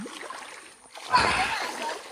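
Water splashing in a cool, clear dam pool in a Kokan village, a faint wet patter followed by a bigger, closer splash and sloshing in the second half.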